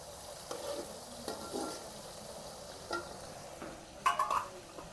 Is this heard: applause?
no